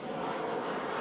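A propeller aeroplane passes overhead above a vegetable garden, a steady broad rumbling drone that holds at even loudness for the whole moment with no voices.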